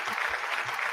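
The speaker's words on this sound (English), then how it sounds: "I'm just going to give us a round of applause" A brief burst of applause from a small group, filling under a second.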